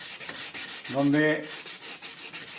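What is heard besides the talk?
sanding a yellowed car headlight lens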